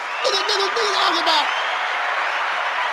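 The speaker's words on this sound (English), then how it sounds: "let's give everybody a round of applause" Crowd applause rolls on as a broad, even wash for a few seconds, with a voice briefly heard over the start.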